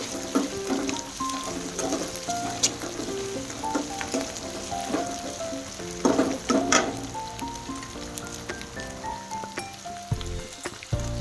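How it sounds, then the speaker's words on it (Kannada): Chilli paste sizzles and crackles in hot oil for a chicken gravy, with scattered spoon clinks and stirring knocks over a constant frying hiss. "ಇವಾಗ ಇದನ್ನು ಚಂದ ಫ್ರೈ ಆಗ್ಬೇಕು ಎಣ್ಣೆಗೆ"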